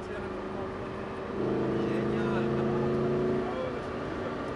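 A Lamborghini Gallardo Superleggera engine revs up, its droning tone rising and holding for a couple of seconds before easing back, while a voice talks over it.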